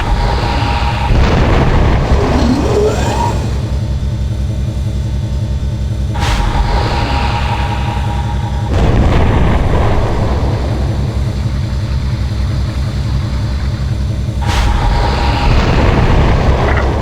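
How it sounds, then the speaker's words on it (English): Torpedoes fired from a vehicle in Red Faction, with a few sudden whooshing launches and booms over a loud, constant engine rumble. "Fire some torpedoes to get a feel for it."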